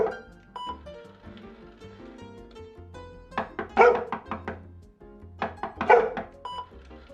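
Dogs bark in short, sharp clusters during a down-stay training drill with knocking distractions, two loud volleys of barks amid softer household sounds and tonal beeps.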